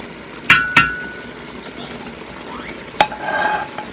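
Egg fried rice with vegetables stirred in a pan, sharp metallic spoon clinks against the pan over a soft background sizzle, a few distinct strikes followed by scraping, close and fairly loud.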